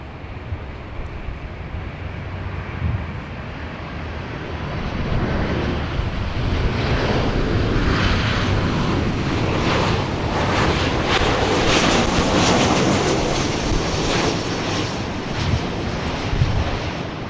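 United airliner from Denver at LAX airport, a broad roaring jet engine rush that swells and holds steady for many seconds, loud and continuous with wind buffeting the microphone.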